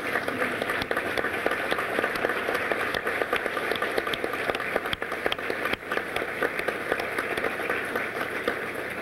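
An audience at an award ceremony for Medweek honorees in a hotel ballroom claps steadily and densely throughout, a broad wash of many hands at a constant level with no voices over it.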